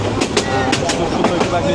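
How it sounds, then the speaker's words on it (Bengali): A Dhaka–Kishoreganj passenger train rounding a curve at speed. Its wheels clatter in a quick, regular clickety-clack of sharp, close knocks over a constant heavy rumble. "ট্রেনটি দেখুন যে একটি সুন্দর পাক দিচ্ছে"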